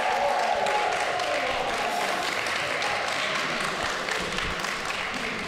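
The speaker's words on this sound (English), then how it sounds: "let's a big round of applause for the tech subcommittee" Applause from an audience at a university society's 24-hour broadcast event, a steady wash of clapping that holds fairly even for the whole stretch, moderately loud with no voices over it.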